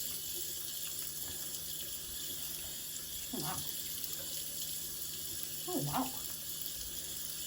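Cool tap water runs steadily into a sink while a seaweed face mask is rinsed off, a constant close hiss with small splashes, as a woman exclaims over it.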